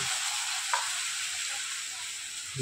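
Wheat flour dough dropped into hot white oil in a wok for a breakfast flatbread, with a steady, loud, bright sizzle and one brief sharper crackle near the start.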